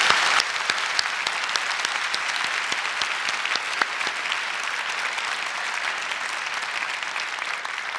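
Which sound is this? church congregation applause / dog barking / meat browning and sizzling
church congregation applause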